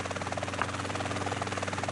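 A helicopter in the video game GTA San Andreas, a Sea Sparrow or Maverick, drones with a steady rapid rotor thump and buzzing engine, close and continuous with no talk.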